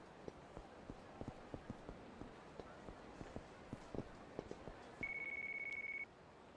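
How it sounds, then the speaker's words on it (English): A phone rings with a steady electronic tone in the video game Yakuza 3 Remastered, sounding once for about a second over a faint, regular rhythm of footsteps. "A lot of phone calls all of a sudden."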